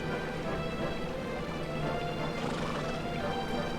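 Horses in Dragon Quest XI, a soft, steady mix of hoof clip-clop and animal sounds, fairly faint and without talk.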